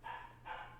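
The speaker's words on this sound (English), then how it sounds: "he's barking upstairs" A six-month-old puppy barks upstairs, two sustained yelping barks heard from a room away, fairly faint and muffled, with no talk over them.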